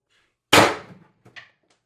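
A single sharp, loud shot from an X-68 airsoft rifle firing a 9.9 gram riot ball, with a quick decaying tail and a few faint mechanical clicks just after.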